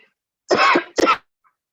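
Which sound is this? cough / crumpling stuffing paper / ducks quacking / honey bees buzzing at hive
cough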